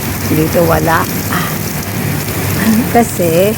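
Water sprays upward from a broken pipe and falls like rain, making a steady hiss throughout while a person talks over it.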